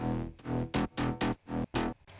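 Synth bass run through an OTT multiband compressor, loud and thick, pulsing in a rhythm of short heavy stabs with gaps between them, alone with no talk.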